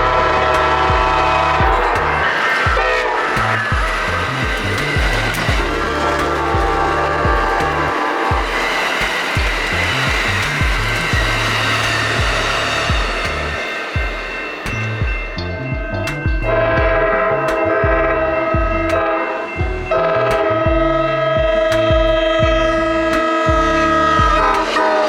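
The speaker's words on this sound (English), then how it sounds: "the next 2 trains would be Pacific Surfliner trains" Pacific Surfliner passenger trains roar past in Southern California, loud and close, with a sustained horn blast, a rhythmic clatter of wheels over rail joints and a long rumble that eases briefly before building again.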